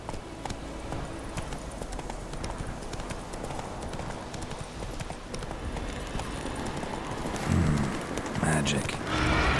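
Roach, Geralt's horse in The Witcher 3, moving along with soft hoofbeats under steady ambient game noise, growing heavier and closer near the end, with no speech.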